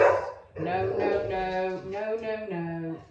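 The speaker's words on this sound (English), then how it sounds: "So if you hear my dog woofing or other dogs woofing outside," A dog woofs indoors while fireworks go off outside, giving a string of close, loud barks and whimpering yips over about three seconds.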